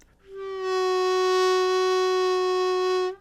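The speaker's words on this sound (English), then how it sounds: "you might bend it on accident and hear this kind of choked sound like this." A harmonica 2 draw note, accidentally bent, sounds as one long held tone that starts slightly sagging in pitch before settling into a steady, somewhat choked note, close and solo for about three seconds.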